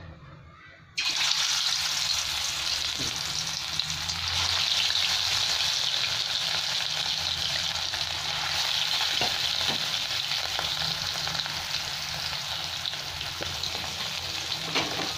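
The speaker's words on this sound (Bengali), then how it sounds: "এবার আমি মাছগুলো সব ভেজে নিচ্ছি।" Fish pieces rubbed with salt, turmeric and chili powder fry in hot oil. The sizzle bursts in after a brief quiet start and then holds as a dense, steady crackle, close and fairly loud, with no one talking.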